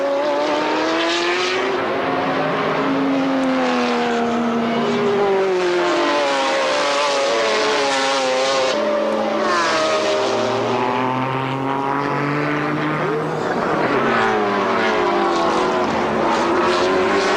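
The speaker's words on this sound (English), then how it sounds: "Oh, Jarier goes through in the Porsche." Porsche and McLaren GT race cars battling at the Jarama circuit in a 1995 BPR Global GT Series race, loud engines roaring and shifting pitch continuously as they pass nearby.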